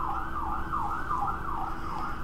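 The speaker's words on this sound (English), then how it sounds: "sirens outside" A video game siren wails, rising and falling steadily in repeated sweeps, loud and continuous over a low rumbling background.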